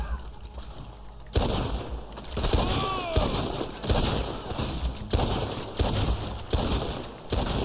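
Lancaster repeater rifle fire in the Red Dead Online video game: sharp, loud shots crack out in a rapid, irregular volley, with several overlapping reports and busy game ambience underneath.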